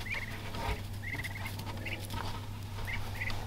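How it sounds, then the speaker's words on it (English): Young ducklings on a farm peep in short high twittering bursts over a constant low hum, a few scattered calls repeating close by. "here is the ducklings. Man, they're getting big."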